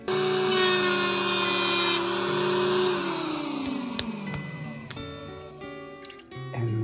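A dedicated beveling machine running as it bevels the edge of a plaque, loud steady motor whine with grinding that gradually drops in pitch, a few sharp clicks, then tapering toward a softer finish.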